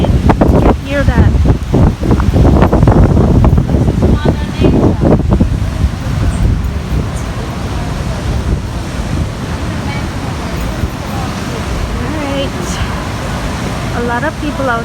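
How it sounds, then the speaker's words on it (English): Ocean waves roar onto a Grand Cayman beach in hurricane wind, a loud, continuous crashing surf with heavy wind buffeting, and people talking nearby. "Oh God, the waves are roaring."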